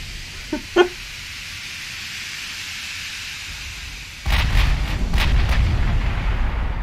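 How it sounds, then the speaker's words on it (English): A video-game warship fires its 12 forward guns in a sudden heavy roaring blast that continues loudly to the end. Two short faint knocks come earlier in a quiet stretch, and nobody speaks. "I just love the 12 guns firing forward"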